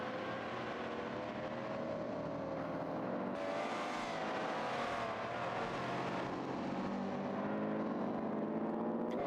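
A GT race car engine drones and shifts pitch through the gears on a Belgian racing circuit, a continuous mechanical howl rising and falling as it accelerates, heard fairly faintly without voices.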